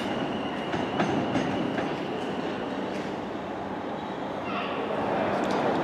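A Class 444 electric train pulls out of Bournemouth bound for Weymouth, a steady loud rumble of wheels and motors with faint rhythmic rail clicks and a rising whine, continuing without pause throughout.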